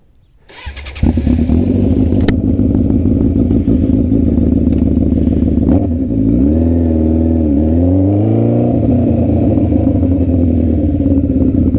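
A motorcycle engine cranks and starts, settling into a loud, close idle, then revs up and down a couple of times before steadying again.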